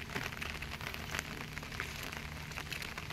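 Steady rain at Nagarmadi waterfall in West Bengal, a dense, even hiss of falling drops that continues without a break.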